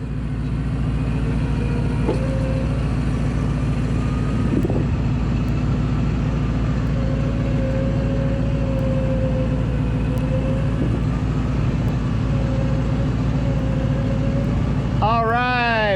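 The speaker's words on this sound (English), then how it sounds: "you could give just a little bit more gas just to help it through" A Lexus stuck in campsite mud runs with a steady, low engine drone while it is given gas to drive out. A person talks over it throughout.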